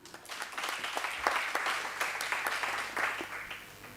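Student parliament audience clapping hands in a hall, a moderately loud, fairly dense round of applause with uneven swells that holds steady from start to finish.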